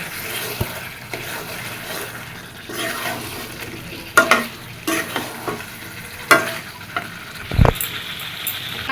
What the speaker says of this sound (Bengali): আলুগুলো না ভেজে দিলাম তার জন্য কষানোর সাথে আলু দিয়ে দিলাম দিয়ে খুব ভালো মতো মাংস কষায় নেব